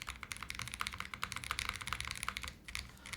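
Someone types continuously on an Odin 75 gasket-mount mechanical keyboard with soft, cushioned keys, giving a dense, fast stream of close clicks with a brief pause near the end.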